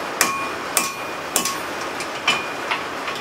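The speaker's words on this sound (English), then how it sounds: "But no use wasting any hammer blows on cold steel." A hammer forges a railroad spike into a hatchet at the anvil: six sharp, ringing metallic strikes spaced roughly half a second apart, loud and close, each with a brief bright ring-out and no talk.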